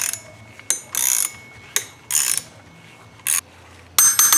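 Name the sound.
shaft pressing into pulley with installer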